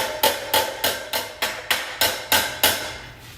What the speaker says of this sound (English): I'm going to do just a little bit of hammer work to tighten that up